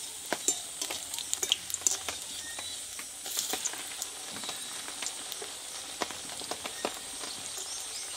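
Pieces of a snack made from puffed rice fry in a little oil, giving a steady soft sizzle broken by frequent small crackles and pops, with no voices.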